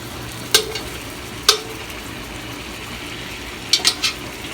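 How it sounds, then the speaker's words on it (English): Steak meat searing in a hot pan for a Cajun steak and gravy, with a steady low frying hiss and a few sharp clinks and scrapes of stirring against the pan. "So when we start browning our meat, we're trying to get that seared."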